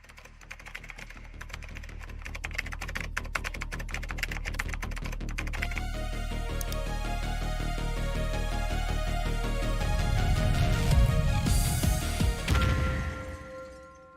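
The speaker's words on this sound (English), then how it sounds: "Shout out to the keyboard going through the door," Rapid, steady clatter of typing on a computer keyboard, close and fairly loud, building in intensity toward the end before a few heavier thumps and a fade.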